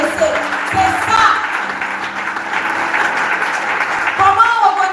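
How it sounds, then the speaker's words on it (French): An audience at a conference session applauds for the mothers in a soft, continuous patter, with a voice talking over it. "est-ce qu'on peut encore encourager, applaudir pour ces mamans-là"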